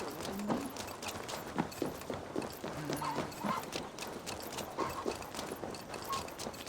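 Horse hooves clip-clop at a steady walking rhythm in the video game Assassin's Creed Valhalla, moderately close and fairly even, with a little faint background sound and no talk.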